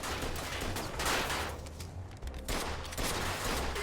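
Gunfire bursts in the Mafia II video game, a dense, continuous fusillade of overlapping shots that stays loud throughout, with a brief lull midway before the firing picks back up.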